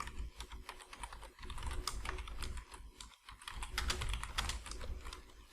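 Quick, continuous clicking of keys on a computer keyboard, fairly faint and close, with irregular bursts and short pauses.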